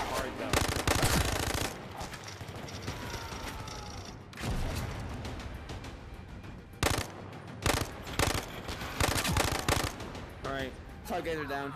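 Rapid bursts of automatic gunfire with single shots and mechanical clatter in the VR shooter Zero Caliber: Reloaded, loud and close, coming in repeated volleys with short gaps and voices mixed in.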